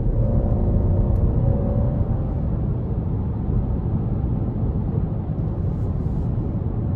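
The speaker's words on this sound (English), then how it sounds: "Gonna give some throttle here." A 2021 Jeep Cherokee Limited with the 2.0 engine pulls under throttle, a steady low engine drone blended with road rumble from inside the cabin, holding constant without pauses.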